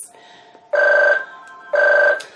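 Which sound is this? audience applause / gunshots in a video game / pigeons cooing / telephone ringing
telephone ringing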